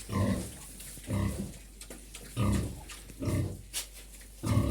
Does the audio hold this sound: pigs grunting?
yes